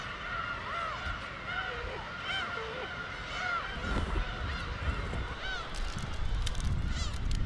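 Many black-tailed gulls call over one another in a nesting colony, with a continuous chorus of harsh, honking cries rising and falling against outdoor background noise.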